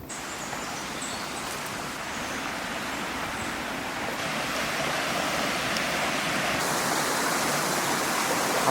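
The River Amber rushes over small waterfalls, a steady broad roar of flowing water close by, swelling slightly louder toward the end, with no voices.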